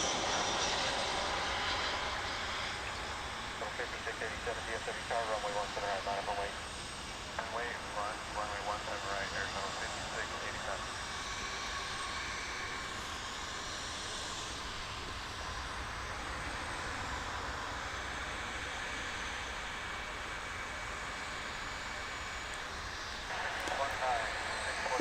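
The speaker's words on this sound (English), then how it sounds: "We have an American Airlines 737-800 coming in from Kansas City," An American Airlines Boeing 737-800 landing at DFW International Airport, its engines a steady, distant broadband roar that holds through the whole span, with faint tonal whine and a slight swell at the end.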